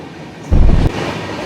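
The Kerala Express bound for New Delhi races past at high speed, a sudden loud rumbling rush of rolling stock that bursts in briefly and then eases back to a lower hum.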